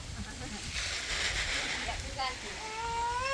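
Water from a solar-powered pump gushes into a farm pond with a continuous splashing, sloshing rush close by. Someone talks over it toward the end.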